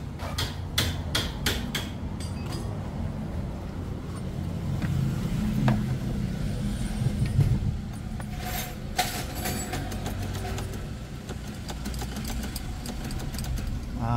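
Toyota 2E engine cranking on a direct battery hookup without starting, with repeated mechanical turning and clicking bursts throughout, near and fairly loud, no catch or idle following.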